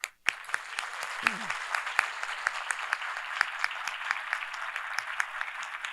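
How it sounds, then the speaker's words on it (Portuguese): A seminar audience claps at length, dense steady applause with individual sharp claps standing out, continuing evenly for several seconds. "que nós agora façamos um aplauso para todos nós, para todos vocês e para todos que passaram antes da gente."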